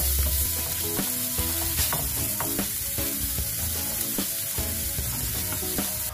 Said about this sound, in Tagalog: Para ma-fry yung garlic natin.